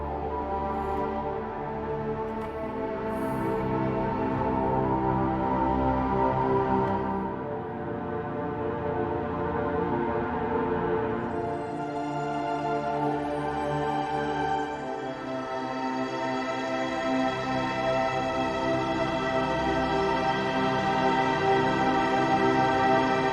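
Heavyocity NOVO synthesized strings drenched in 7th Heaven reverb hold sustained, layered chords that swell and shift, with a long, washy tail and no voices.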